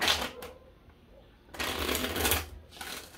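Two bursts of tarot cards being riffled and shuffled close by, separated by a brief quiet pause, then a short third flick.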